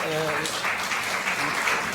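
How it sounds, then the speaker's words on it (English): Corporate audience at an ICSI regional gathering in Pune applauds, a continuous dense clapping that fills the room, with a voice briefly heard over it at the start. "So give huge round of applause to both of them"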